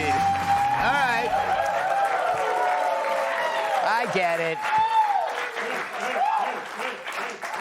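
A studio audience at a late-night talk show claps and cheers loudly, in one sustained burst of applause under a voice speaking over it.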